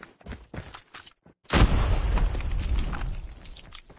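A grenade blows up in a tactical shooter game with bomb-defend objectives: a sudden, loud, heavy boom with a rumbling tail that trails off over a few seconds, after a stretch of quieter clatter and shots.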